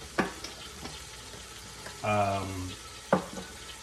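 Food caramelizes in a pan while cooking Moroccan couscous, with a low sizzle, a few sharp spoon taps, and a brief scraping stir in the middle.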